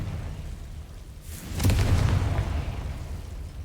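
A Confringo blasting spell goes off in the game Hogwarts Legacy, a single low booming blast that swells and rumbles for about a second before fading over a quiet background hum.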